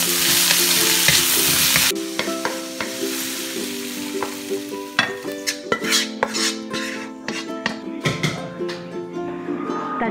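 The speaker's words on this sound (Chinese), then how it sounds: "再煸炒几下就可以出锅了" Celery and bean curd sticks are stir-fried in a pan, with a steady loud sizzle followed by repeated clinks and scrapes of a utensil against the pan, near and busy, with no talking.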